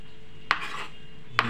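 A pan of Bengali prawn kosha cooks while being stirred, giving two sharp metallic clinks of a utensil against the pan about a second apart over a quiet, low background.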